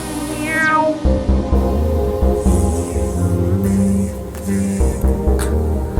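A wailing synth voice that sounds like an evil cat's meow, played in a live electronic music session; loud, sliding yowls rise and fall over a steady thumping beat.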